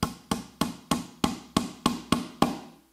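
Nine sharp, evenly spaced blows sound close up as a tenon is hammered into a workbench mortise. Each strike is a crisp wooden knock with a short decay, and the blows come in a steady rhythm.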